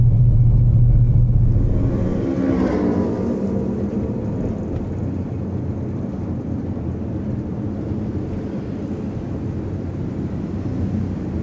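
A 2012 Mitsubishi Outlander drives along city roads, giving a steady, loud low rumble of engine and road noise from inside the cabin, a little heavier at the start and then even throughout, with no talk.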